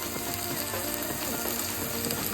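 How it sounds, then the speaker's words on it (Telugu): Soaked moong dal frying in oil with turmeric, a dense, steady sizzle and crackle close by, loud and continuous throughout with no talking. "ఆయిల్లో పప్పుని మంచిగా ఫ్రై చేసుకోవాలండి."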